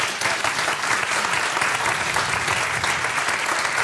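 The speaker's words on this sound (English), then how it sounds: "Give a big round of applause to this panel." A conference audience gives a panel discussion a steady round of applause, dense clapping at moderate loudness for a few seconds with no speech over it.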